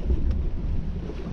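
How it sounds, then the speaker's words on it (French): Strong wind blows over a small sailboat cruising solo in the Pertuis Charentais during a gale, a loud, steady buffeting roar with low gusty rumble close to the microphone and no talking. "le vent a tendance à monter"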